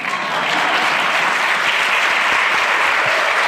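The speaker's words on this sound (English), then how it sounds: "Supposed to clap for them here." An audience at an awards ceremony applauds the honorees, producing a dense, even wash of clapping from many hands that holds steady throughout.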